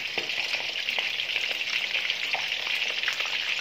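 Angelfish sizzling in oil in a large frying pan, a steady loud crackle with scattered pops, close by and with no voices.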